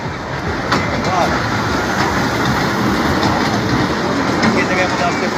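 A train rolls slowly past, its low rumble and faint wheel clatter steady and close throughout, with no talk over it.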